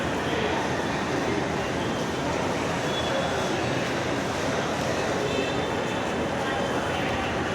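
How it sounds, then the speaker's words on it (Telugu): Busy concourse of Mumbai's Chhatrapati Shivaji Maharaj Terminus railway station under a covered roof with trains, giving a steady, loud wash of station noise and rumble with crowd murmur throughout. "ఇది బాంబే రైల్వే స్టేషన్."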